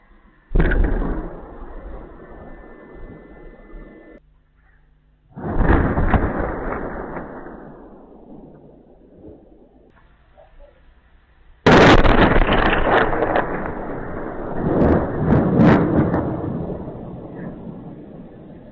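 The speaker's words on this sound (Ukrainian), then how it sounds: "Вибухи чули і в Донецьку." Explosions from news footage of strikes near Donetsk and Kursk: three heavy blasts, each a sudden loud boom followed by a long rumbling decay, the last one the loudest and most crackling.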